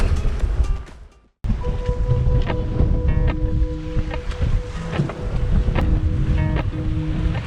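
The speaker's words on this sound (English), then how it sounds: "as the waves build in combination with the currents and the winds" A sailboat crosses the open sea at night as waves build, giving a steady, loud rush of wind and water against the hull. A few faint tonal hums sit underneath, and the sound drops out briefly early on.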